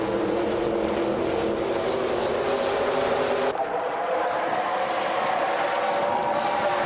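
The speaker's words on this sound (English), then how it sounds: "the race is underway at Atlanta Motor Speedway" Race cars at Atlanta Motor Speedway roar in a dense, sustained engine drone as the field gets underway, loud and steady, dropping to a duller rumble partway through.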